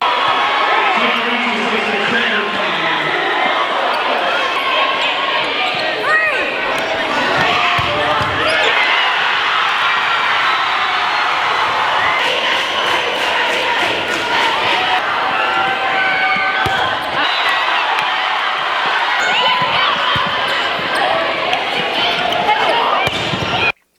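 A crowd at a girls' basketball game cheers loudly and continuously, with shouts and a dense roar filling the gym and occasional sharper bursts throughout.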